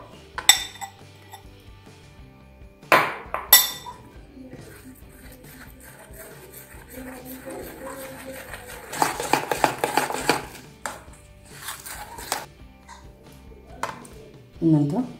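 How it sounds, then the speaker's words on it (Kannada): Flour batter for garige, a sweet fried dish, mixed slowly in a bowl, with scattered clinks and scrapes of a utensil against the dish, some sharper knocks, and quiet stretches between. "ಈಗ ಗಂಟಿಲ್ದಂಗೆ ನಿಧಾನಕ್ಕೆ ಚೆನ್ನಾಗಿ ಮಿಕ್ಸ್ ಮಾಡ್ಕೊಳ್ಳೋಣ"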